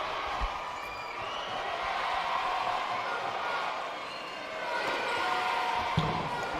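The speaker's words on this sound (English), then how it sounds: "Listen to the crowd." Crowd at a Tennis Premier League match in Pune cheering and murmuring in a steady, moderately distant roar, with a couple of faint thumps and no clear talk over it.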